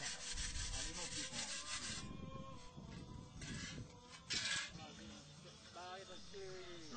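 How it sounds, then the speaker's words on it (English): Metal sculpture pieces sanded at a Haitian metal artisans' workshop, a steady rough rubbing and scraping that repeats in strokes over several seconds, with background voices. "each piece is sanded to bring out the shine and beauty of the metal"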